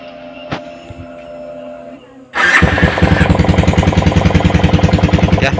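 A Yamaha Vixion motorcycle engine starts after a quiet idle-like hum, then runs loudly with a steady, rapid rhythmic throb close by, the bike having a fault where it stalls when put into gear.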